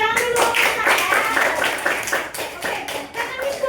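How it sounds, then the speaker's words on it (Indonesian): Children in a classroom clap their hands together in a steady, fairly loud, rhythmic burst of many overlapping claps, with voices mixed in. "Oke, tepuk tangan dulu."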